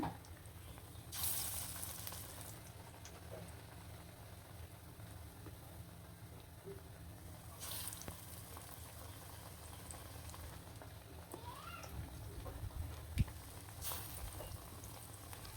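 Eggplant fritters (beguni) fry in oil with a faint, continuous bubbling hiss, plus a few soft clinks and one sharp tap near the end.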